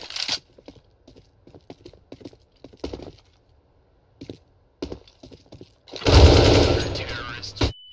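Sparse keyboard-like clicks and short shots in CS:GO lead into a loud sustained burst of sprayed automatic gunfire near the end, with a player speaking intermittently between the shots.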